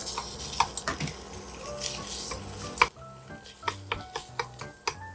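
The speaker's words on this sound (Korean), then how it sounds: "고기는 국거리용으로 사서 고기를 먼저 볶아줍니다" Soup-cut beef for Korean seaweed soup stir-fried in a pot: a soft sizzle under sharp, irregular clinks and taps of a utensil against the pot, close and fairly quiet, with no talking.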